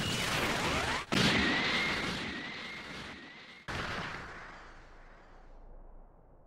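A loud, roaring Special Beam Cannon energy blast in Dragon Ball Sparking! Zero, with a rising whine, cut off by a sudden drop, then a second surge of crackling noise that fades away.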